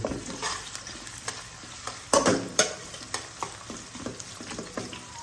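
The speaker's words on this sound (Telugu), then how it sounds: "ఇటు పక్క ఫ్రైడ్ ఆనియన్స్ వేగుతున్నాయి." Onions frying in a pan for chicken leg dum biryani, a close crackling sizzle stirred with repeated scraping strokes, one louder spitting burst standing out near the middle.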